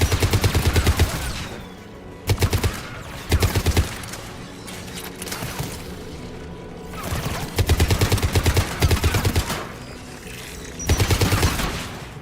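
Anti-aircraft gun turrets firing in Mass Effect 3, loud rapid bursts of cannon fire in repeated volleys separated by quieter ambient gaps.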